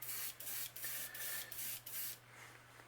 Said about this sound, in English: Keep spraying.